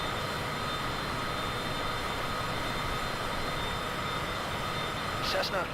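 Steady broadband drone of a Cessna aircraft engine in a flight simulator game, continuous and fairly loud for the whole stretch, with a brief faint click near the end.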